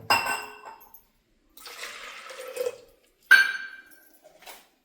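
Water poured from a small bowl into washed dal (lentils) in a pot: a clink of the bowl, then a splashing pour of about a second, a sharp knock and a trailing trickle, with no talk.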